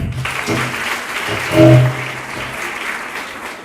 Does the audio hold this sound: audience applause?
yes